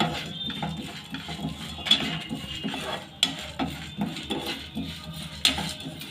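Cinnamon, cloves and cardamom are stirred and roasted in a pan for vangi bath powder, with repeated clinks and scrapes of a spoon against metal in an uneven rhythm, close and clear.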